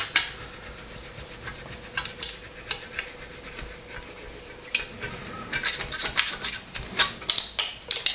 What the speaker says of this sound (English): Absolute dream to file this model.